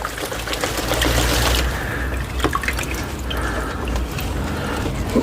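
Water splashing and dripping over the roots of a Nepenthes pitcher plant as it is shaken and rinsed during repotting, a steady close wet wash with scattered drips and no talking.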